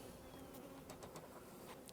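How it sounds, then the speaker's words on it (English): Honeybees hum steadily at an open hive split on a Hawaiian farm, a continuous low drone with faint, brief rises from individual bees passing close, calm and even throughout. "Again, the bees are looking super calm"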